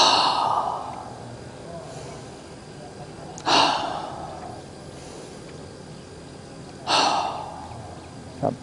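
Deep yoga breaths draw in and release as a series of breathy rushes every few seconds, close and fairly loud against a quiet room, the last one short.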